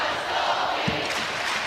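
Fans cheer in the arena at a women's college basketball Big Ten Tournament semifinal against Michigan, a continuous crowd roar heard at moderate level with a few raised shouts.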